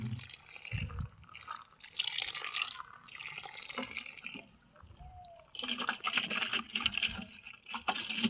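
Water runs from a village water tap into a plastic jerrycan, a steady splashing rush that holds through most of the stretch with small shifts in level and no talk.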